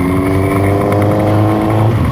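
A motorcycle engine idles steadily while warming up on a tree-lined road, a close, even low drone with a constant tone and no talk.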